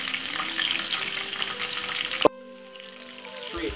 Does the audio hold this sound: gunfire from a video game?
no